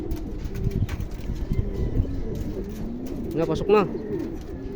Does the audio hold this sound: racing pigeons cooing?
yes